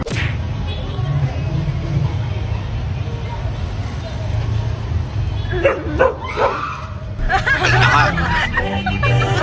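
A dog barks and yips a few times amid a lively crowd murmur and people talking, the barks short and fairly close.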